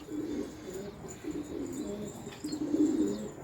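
Pigeons in a loft where chicks are being hand-fed, with soft, low cooing repeating steadily and close by, a few faint chirps above it, and no talking.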